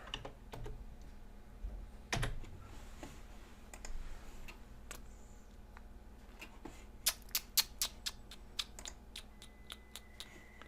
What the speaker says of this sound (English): I'm hitting F5 to refresh the page.